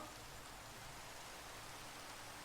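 Steady rain falling in the Minecraft video game, a continuous even hiss of drops with no pauses, very faint and heard alone.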